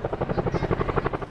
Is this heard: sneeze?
no